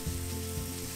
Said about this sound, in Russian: Обжариваю на небольшом количестве растительного масла мелко нарезанный лук.